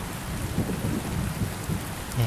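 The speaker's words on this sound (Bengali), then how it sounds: "বাইরে তো ভীষণ ঝড় শুরু হয়েছে" Steady rain pours down with a low rumble of thunder beneath it, a continuous stormy wash without voices.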